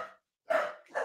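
A dog barks at the door indoors in a few sharp, loud bursts: one brief bark, a pause, then two stronger barks close together, with no talking.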